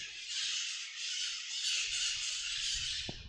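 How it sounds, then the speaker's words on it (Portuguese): Parakeets (maritacas) squawking outdoors in a dense, continuous chorus of shrill calls, fairly loud, with some low background rumble and a faint knock near the end. "Olha que lindo os passarinhos."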